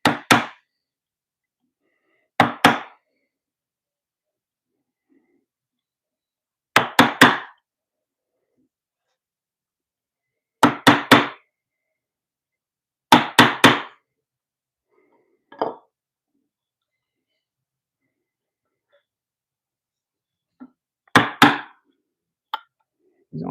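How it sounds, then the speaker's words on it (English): A mallet drives a chisel around a mortise in wood, landing in clustered bursts of two or three sharp, close knocks separated by pauses, with a few lighter taps in between. "I'm just going to chisel around that spot"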